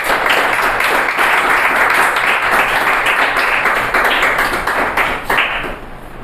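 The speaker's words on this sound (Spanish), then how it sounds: "Dar un aplauso al Señor en esta mañana." A church congregation claps and applauds during a Sunday morning service, dense steady clapping filling the room for several seconds before tapering slightly near the end.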